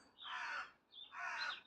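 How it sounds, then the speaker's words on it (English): Two harsh caws from a crow, one after the other, fairly faint and at a distance against a quiet outdoor background in a garden in autumn. "Just listen to the birds chirping away"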